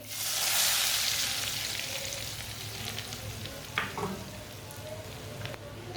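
Hot oil tempering sizzles loudly as it is poured onto cooked masoor lentils, a steady frying hiss that settles to a softer crackle, with a few light clinks near the end.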